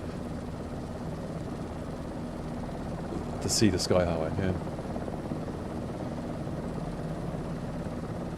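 A steady helicopter engine drone runs under a flight in Microsoft Flight Simulator 2024 over the Whistler area, an even rotor and turbine hum throughout while someone talks briefly in the middle.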